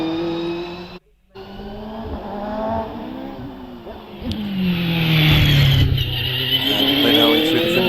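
An OMS 28 hillclimb race car screams up the hill, its high-revving engine rising and falling through gear changes, a brief cut near the start, then growing louder and closer with tyre noise toward the end.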